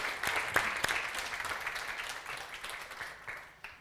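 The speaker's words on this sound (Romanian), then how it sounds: "cred că o merită încă o rundă de aplauze pentru voi" Audience in a lecture hall at a university integrity gathering applauding, a dense wash of clapping that stays fairly even and gradually thins over several seconds.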